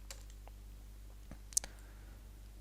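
Sparse, quiet key clicks from typing on a computer keyboard in Excel, a few scattered taps and one sharper click, close and soft over a low steady hum.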